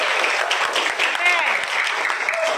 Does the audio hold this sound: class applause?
yes